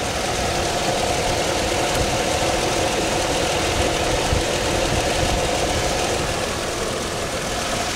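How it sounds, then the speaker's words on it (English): A car engine idles steadily with the air conditioning running, a close, continuous mid-pitched drone with a faint knocking texture and no talk. "The engine's running, the AC's on"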